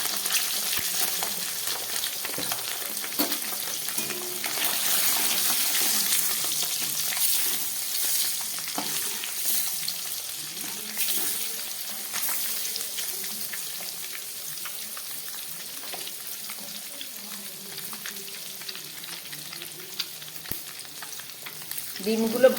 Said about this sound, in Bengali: ডিমগুলো ভাজা হয়ে গেছে